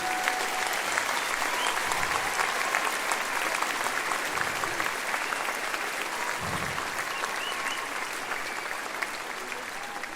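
Long, steady round of applause from a large audience honouring the staff and volunteers of Maison de Bégon, dense clapping holding at a constant level with occasional low thumps beneath.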